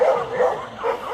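Agitated dogs bark out on a street in a few repeated yapping bursts, moderately loud and somewhat distant, with a faint voice in the background.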